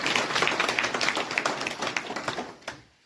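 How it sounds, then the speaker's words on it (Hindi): Applause for speakers at a political gathering, a dense burst of clapping that continues steadily for a few seconds before fading out. "इनके लिए जोरदार ताली।"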